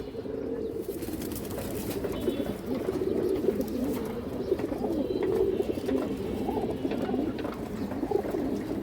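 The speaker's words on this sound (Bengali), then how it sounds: "একটা লাইট কালারের সবজি খুব সুন্দর কবুতর" Light-coloured sabji high flyer pigeons coo continuously in a low, rolling murmur, several birds close by throughout with a brief rustle early on.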